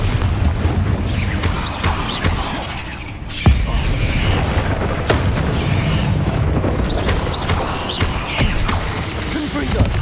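Repeated blasting-spell explosions from the Confringo curse in the video game Hogwarts Legacy, loud booming bursts recurring through a dense, busy game soundscape with a sharp impact around the middle.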